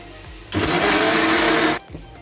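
Mixer grinder blending chillies, cashews and tomato pieces into a curry paste, a loud, steady whirring burst of just over a second that starts and stops abruptly, with no talk over it.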